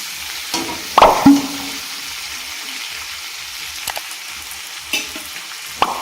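Oil sizzles and crackles steadily in a pan of frying prawns, with a few louder clinks and scraping stirs near the start and scattered small pops later.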